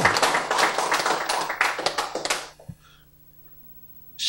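An audience at a Korean church sermon claps in a brisk burst of many hands that fades out after about two and a half seconds, leaving near silence before a faint sound returns at the end.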